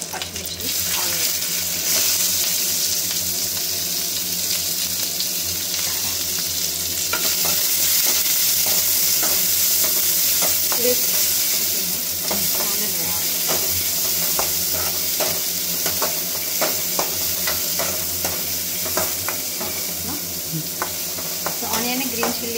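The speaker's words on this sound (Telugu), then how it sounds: "ఆనియన్, గ్రీన్ చిల్లీ వేసిన తర్వాత కొంచెం ఫ్రై చేసుకోండి." Chopped onions and green chillies frying in a pan for a tomato curry, a loud, continuous close sizzle with occasional stirring scrapes and clicks, steady throughout with no talking.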